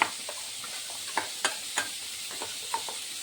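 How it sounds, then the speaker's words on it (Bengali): Spices are stirred into hot oil in a pan, a constant sizzle broken by several sharp spatula clicks and scrapes at irregular intervals. "মশলাগুলোকে আমি ভালো করে মিশিয়ে নিচ্ছি।"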